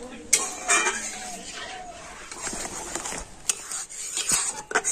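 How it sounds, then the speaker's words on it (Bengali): A spoon scrapes and clinks against a pan while stirring a thickening potato mixture, with steady rough scraping strokes close up and a voice faintly present. "আর এইভাবে কন্টিনিউ নাড়তে নাড়তে তো এটা কিন্তু অনেকটাই ঘন হয়ে যাবে।"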